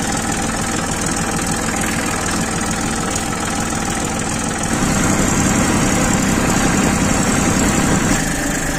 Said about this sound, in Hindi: ये है अपना ट्रैक्टर।